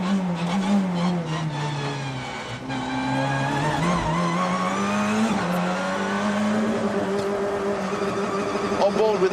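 A BTCC touring race car on its first lap at Croft runs at sustained high revs, a loud close onboard engine drone that climbs and shifts through gears, with commentary talking over it.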